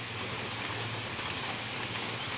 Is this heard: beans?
no